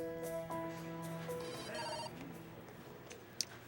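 A telephone rings with a repeated electronic tone, the rings coming in short bursts that fill the whole stretch at moderate loudness with no talk over them.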